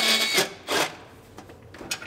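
A socket wrench clicks and rasps in quick bursts while loosening a 10mm bolt on the fender of a Lincoln MKT, close and fairly loud, with short ratcheting strokes.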